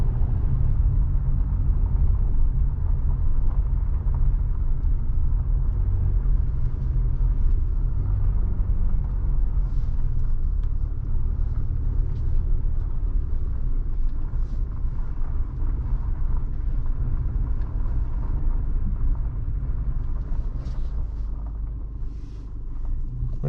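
A car on a washboard gravel road in the Steens Mountain gives off a continuous low rumble and rattle, with wind noise buffeting the microphone throughout.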